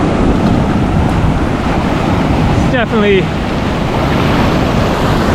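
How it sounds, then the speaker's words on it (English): Ocean waves break at a Hawaii beach in a constant loud roar of surf and wind noise, with a brief spoken word in the middle. "the waves go in multiple directions"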